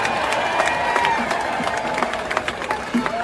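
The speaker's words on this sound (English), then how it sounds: "a hell of a round of applause" A crowd at an outdoor concert claps and cheers, a dense spread of applause with scattered whoops, fairly close and continuous, with a voice speaking over it.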